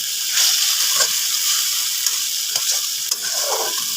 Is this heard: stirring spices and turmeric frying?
yes